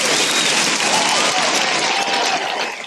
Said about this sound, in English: Freddie, I'm going to need a round of applause after that